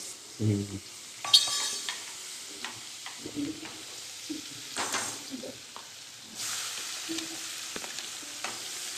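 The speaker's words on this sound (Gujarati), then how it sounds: "વઘાર આવ્યો હતી." Spices tempering in hot oil, with crackling bursts, stirring scrapes and pan clatter, growing into a steady loud sizzle toward the end.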